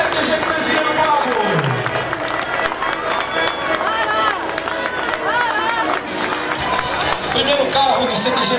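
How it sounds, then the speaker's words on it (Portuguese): A crowd applauds at a gaucho cultural parade in the Farroupilha tradition. The clapping is a continuous, loud patter blended with accordion-like music, and an announcer talks over it throughout. "Mais forte um aplauso, pessoal"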